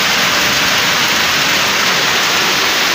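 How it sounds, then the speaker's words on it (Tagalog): Sudden heavy rain pours down at night in a steady, loud, unbroken hiss of water with no voices. "nagulat ka sa lakas ng kulog at biglang pag-ulan"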